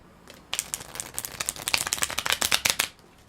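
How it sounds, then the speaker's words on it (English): Cards being shuffled together by hand, a close run of rapid riffling bursts and crisp flutters, growing denser toward the end before stopping, with no talking. "I'm gonna shuffle them together."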